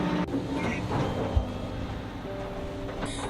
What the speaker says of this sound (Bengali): আমরা এখন আছি মাউন্ট ট্রেনের ভিতরে